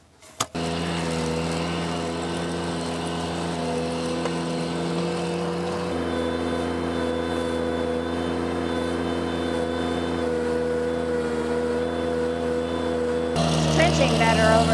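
A Ventrac trencher digging a trench through ground with buried concrete, a steady loud engine drone with a strong hum that shifts in load partway through and again near the end, with voices speaking over it.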